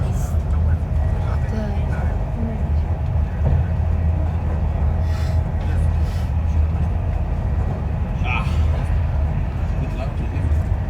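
An Avanti train travels toward Stockport and Manchester Piccadilly, heard from inside as a steady, low rumble of wheels and carriage with occasional faint clicks and bumps, and faint voices under the constant hum.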